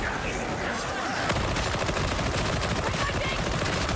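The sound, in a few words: rapid gunfire in video game Darktide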